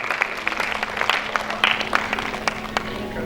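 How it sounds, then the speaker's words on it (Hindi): An audience at a spiritual fair applauds in a steady patter of many hands, moderately loud and sustained, with a low hum underneath. "जोरदार तालियों से सहयोग करें"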